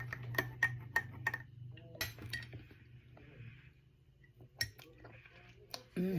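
Passion fruit juice topped up with water being stirred in a container, giving a string of bright clinks and taps against the sides, quick and close at first, then sparser and quieter.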